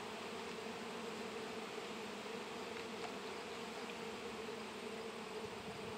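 A honeybee trapped under the seal of an alcohol-wash jar at an untreated hive buzzes in a continuous, even drone that stays faint and unbroken throughout.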